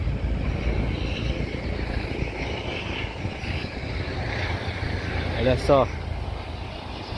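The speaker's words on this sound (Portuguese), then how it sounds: "helicóptero" Low police helicopter passing overhead near a beachfront promenade, a steady throbbing rotor rumble beneath outdoor ambience; someone speaks briefly close by.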